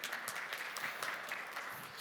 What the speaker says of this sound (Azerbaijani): Sizin alqışlarınızla yenə.